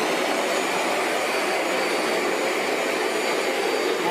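A Bissell ProHeat 2X Revolution Pet Pro carpet cleaner running, a loud, constant close-up motor whine and airy roar with no change throughout.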